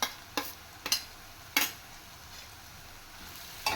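Tomato and coriander powder fry in a pan under a low, continuous sizzle, broken by four or five sharp scraping stirs at irregular intervals.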